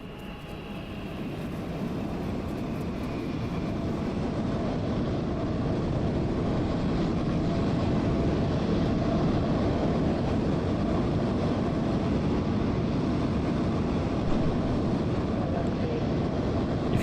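A Boeing 737 departs in the MSFS2020 flight simulator at Hong Kong, its engine roar swelling into a broad, steady rumble that holds for the rest of the stretch, with no voices over it.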